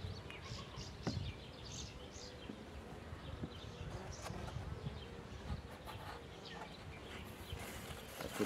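Honeybees buzz softly and continuously at close range around a hive, a low hum with occasional nearer flybys and faint bird calls in the background.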